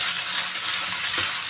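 Ground meat sizzling in a frying pan with garlic for a simple home-cooked dish, a steady close frying hiss with faint stirring scrapes, no talking.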